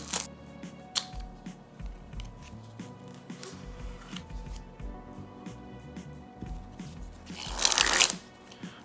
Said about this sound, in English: We got a pull tab here so you can open these cards nice and easily.